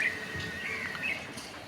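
Small birds chirp and tweet in short bursts while feeding outdoors, fairly close, over a steady background hum from nearby road traffic.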